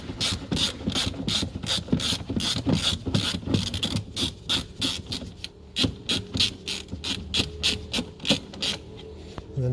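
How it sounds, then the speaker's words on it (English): A ratchet wrench clicks steadily while undoing a 10mm bolt on a Renault Clio 3, a quick regular run of close metallic ticks with brief pauses and shifts in pace, no talking. "you want to undo this one 10mm bolt"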